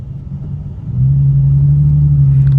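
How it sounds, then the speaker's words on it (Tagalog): A 2020 Nissan 370Z fitted with a dual catback exhaust idles with a deep, close rumble, then swells at about one second into a louder, steady droning rev that holds to the end, with no talking. "tapos ang ating exhaust. Ganda ng tunog."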